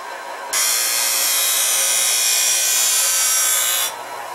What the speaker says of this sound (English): if I go over here and sharpen the skate